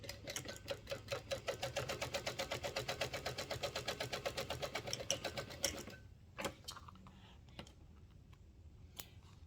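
A sewing machine stitches a quilting line through vinyl with a fast, even run of mechanical clicks for about six seconds, then stops and leaves a few scattered handling taps.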